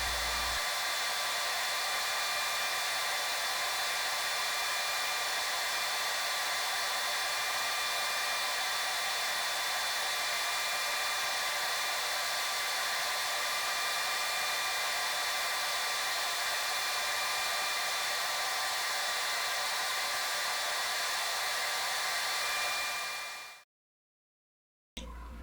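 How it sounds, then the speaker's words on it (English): A homemade CNC router, the builder's first, runs with a loud, steady whine and broadband hiss that holds evenly for about 23 seconds, then cuts off abruptly into silence before a brief restart. "I'm pretty excited about the router running"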